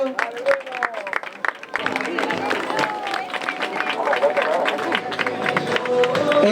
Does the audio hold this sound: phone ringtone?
no